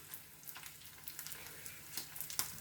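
Butter melting in a hot pan for a home Sunday breakfast gives a soft, steady sizzle with faint crackles and small pops, fairly quiet and close, with no talking.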